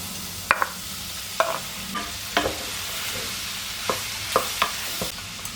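Chopped onion dropped into tomato paste frying in a pan, a steady sizzle with repeated sharp scrapes and clicks of stirring at irregular intervals, no talking.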